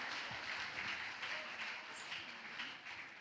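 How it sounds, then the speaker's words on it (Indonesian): Audience applause for an honoured priest at an evening anniversary ceremony of a philosophy college, a steady broadband wash of many hands clapping, moderately faint and distant, holding evenly for a few seconds. "Kita berikan tepuk tangan kepada Romo Magnis yang luar biasa."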